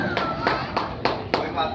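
Scattered claps from an audience at a speech event, several sharp hand claps spaced about every quarter second over a steady murmur of voices.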